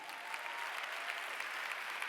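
Conference audience applauds steadily, a dense wash of many hands clapping at moderate distance, even in level throughout with no voices over it.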